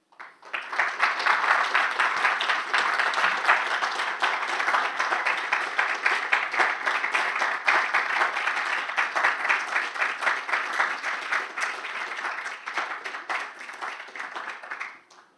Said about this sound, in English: That was telling, the applause.